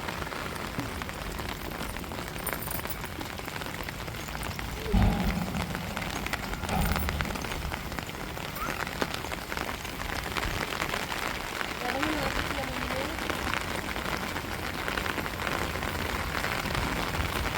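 Steady rain hisses on a surface throughout, dense and constant, with occasional faint voices and small knocks underneath.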